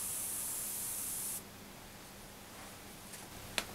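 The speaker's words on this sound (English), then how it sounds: "so that's the airbrush work finished on this stage" An airbrush sprays acrylic leather paint onto a leather wallet, a steady close hiss for the first second and a half before cutting off to a faint room background with a small click near the end.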